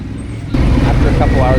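A motorcycle rolls along a road in Honduras with steady, loud engine and wind rumble. A brief quieter moment gives way to a sustained roar.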